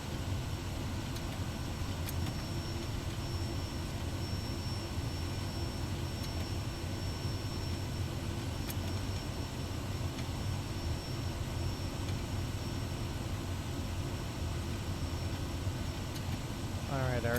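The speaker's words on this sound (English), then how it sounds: "While we're taxiing, we'll go ahead and bring this back to low idle." A Kodiak 100 turboprop sits at low idle while taxiing in Microsoft Flight Simulator, giving a steady, even engine drone with a faint whine on top and no change in level throughout.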